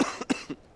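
A character in Halo Reach machinima coughs three times in quick succession, rough and close, with no other voices in the gap.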